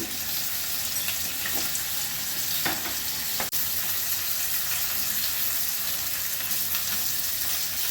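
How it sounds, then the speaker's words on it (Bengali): Prawns fry in a pan with a loud, steady sizzle that fills the whole stretch, with a couple of brief scraping clicks partway through and no talking. "এবার আমি চিংড়ি মাছগুলো দিয়ে দিচ্ছি, নুন দিচ্ছি, হলুদ দিচ্ছি"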